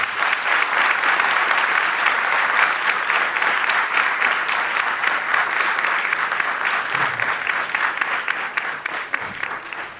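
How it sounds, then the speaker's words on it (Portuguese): A crowd at a political movement's year-end accountability event gives the organizers a steady, full round of applause, dense and even throughout, tapering slightly near the end. "Eu quero, inclusive, pedir a todos uma salva de palmas para essas pessoas."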